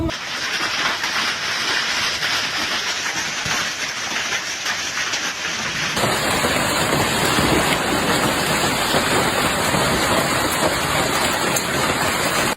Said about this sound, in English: a wall of torrential rain crashing down with the force of a broken dam